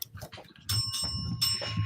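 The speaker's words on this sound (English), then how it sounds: "Wow, a bell." A bright bicycle-style bell rings out as a sound effect during a home game show, with a sustained ringing tone layered over excited voices talking.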